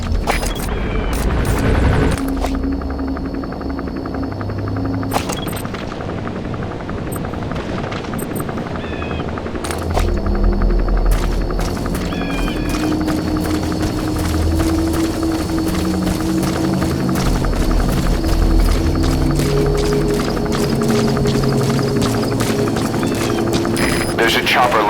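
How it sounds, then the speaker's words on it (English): A helicopter lands in Metal Gear Solid V: The Phantom Pain, a steady rotor rumble running throughout with scattered gunfire-like cracks and voices speaking over it. "There's a chopper landing."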